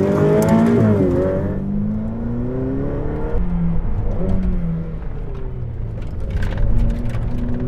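A Ferrari Monza SP1 sports car drives on roads, its engine note rising and falling through repeated revs and gear changes, loud and close throughout with no talk.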